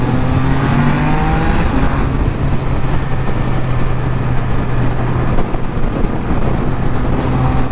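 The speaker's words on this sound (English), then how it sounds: "Man, them downshifts are nice." A Can-Am Spyder F3 roars under hard acceleration on an open road, a loud, rough engine drone with shifting pitch as it downshifts, accompanied by steady wind rush close to the rider.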